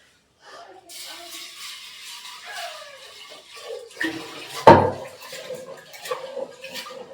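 Lentils are washed in water in a home kitchen, with running water, splashing and swishing, plus a sharp knock of a vessel midway, close by and fairly loud; faint voices are heard in the background.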